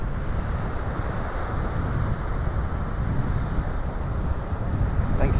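Ocean waves washing onto a beach in North Naples in the early morning, a steady, full roar of surf with some wind noise on the microphone and no voices.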